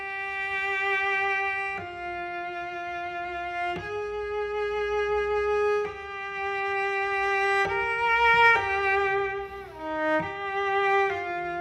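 A cello bowed very softly, pianissimo, plays sustained notes one after another with clean, harmonic-rich tones. The bowing is gentle and close, and the phrase moves between pitches with smooth changes and no talking.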